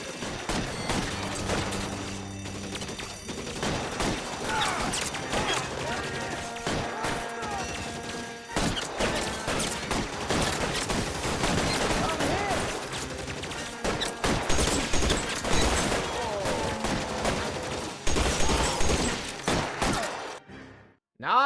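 A shootout in the video game L.A. Noire during a bank job, with repeated bursts of gunfire, sharp cracks and crashes in rapid, uneven volleys, loud and close, with brief pauses between exchanges.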